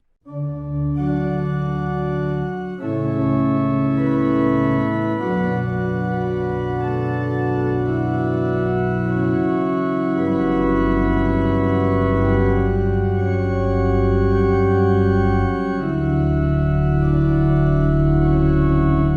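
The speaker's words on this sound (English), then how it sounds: "The beautiful church organ was recorded in a historic Dutch village" A sampled church organ recorded in a historic Dutch village church plays sustained chords for about twenty seconds, rich and full, with a deep sub-bass pedal tone joining partway through and holding underneath.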